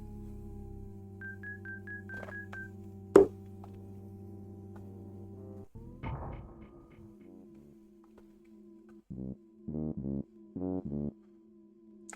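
Payphone dialing tones in the SNES game EarthBound: a steady electronic hum, then a quick run of clear, evenly spaced button beeps near the end, set against quiet game music.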